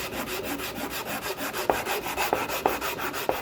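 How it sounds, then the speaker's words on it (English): A wooden footstool board is hand-sanded with sandpaper wrapped around a block, making steady rhythmic back-and-forth scratchy strokes with small knocks at each turn, close and continuous with no talking. "I wrap my sandpaper around it, and then you want to simply go like this and get rid of any marks that are left on that board."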